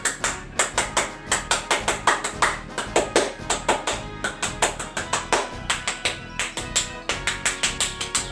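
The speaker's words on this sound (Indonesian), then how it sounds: "Tepuk Pramuka." Pramuka scout rhythmic clapping, a patterned sequence of sharp hand claps repeating in steady groups, loud and close, with no talking.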